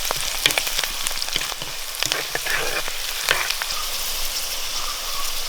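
Mustard seeds, chopped ginger, garlic and green chilli fry in hot oil in a pan for a sardine curry, a steady sizzle broken by sharp crackles and pops, close and fairly loud with no talking.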